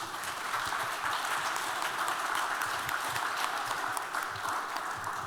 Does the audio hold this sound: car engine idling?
no